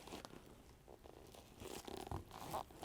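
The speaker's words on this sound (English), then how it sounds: "Getting these zippers on here." Zipper pulled along the window of a Bestop Trektop NX soft top on a Jeep LJ: a string of rasping, crinkly bursts close by, growing louder toward the end, with no talk.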